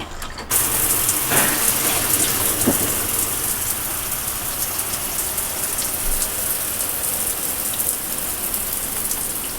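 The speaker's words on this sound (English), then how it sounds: "We've got this beautiful copper rainfall shower here" A copper rainfall shower in a camper van pours water steadily, a dense, even hiss of falling streams that starts abruptly and continues close and constant without a break.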